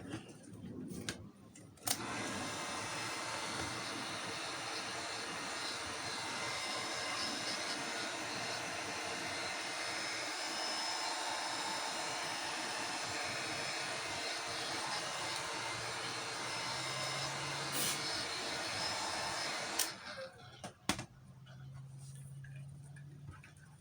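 A heat gun blows steadily on craft pieces being warmed, giving a continuous loud whooshing roar that runs for about eighteen seconds before cutting off, with a few clicks at the start and end.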